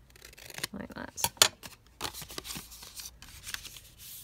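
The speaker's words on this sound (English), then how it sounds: "I'm just going to trim that down, just because it's got a tiny bit of white showing" Paper being trimmed with scissors for a concertina foldout craft, a series of close snipping and rustling cuts in quick irregular succession.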